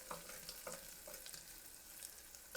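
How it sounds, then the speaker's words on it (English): Onions, garlic, ginger, mint leaves and green chili sizzle softly in a pan, a steady faint frying hiss broken by a few light stirring scrapes. "Then I am caramelizing all these onions, garlic, a small piece of ginger, 2 mint leaves and 2 green chili"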